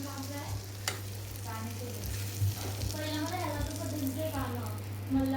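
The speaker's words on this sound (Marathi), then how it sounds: "थोडं गॅसवर फ्राय करू" Food fries on a gas stove with a steady sizzle and stirring scrapes, while people chat over it.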